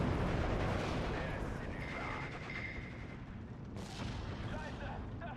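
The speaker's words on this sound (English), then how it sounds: "Oh, the mortar fire as well." Mortar fire and artillery in a Steel Division 2 World War II battle, with dense rumbling booms and crackling impacts that run continuously over a loud battlefield roar, while someone speaks over the din.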